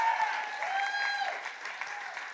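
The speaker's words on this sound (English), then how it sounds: "Can I have a round of applause for all of our debaters tonight?" Audience at a science comedy debate night applauding the debaters, brief dense clapping with faint whistles mixed in, steady then tapering slightly.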